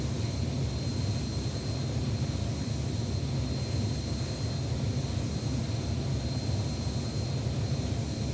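A jet fighter's engine roars steadily in a flight simulator game, with the airframe shaking as it flies beyond Mach 1; the broadband, low-heavy rumble stays loud and constant with no talk.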